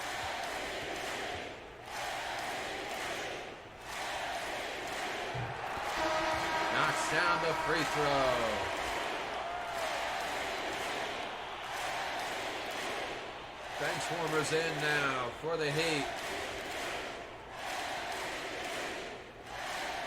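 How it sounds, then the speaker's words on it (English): Arena crowd cheering and applauding for Shaquille O'Neal during an NBA Finals-style game between Miami and Orlando, a steady roar swelling in bursts beneath continuous play-by-play commentary. "And this crowd showing its appreciation for Shaquille O'Neal."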